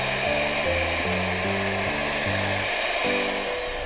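An electric hand mixer whips egg whites with yolks at high speed for a Black Forest cake. It gives a steady, loud motor whine that shifts pitch in steps as the beaters work, close and continuous, with no talking.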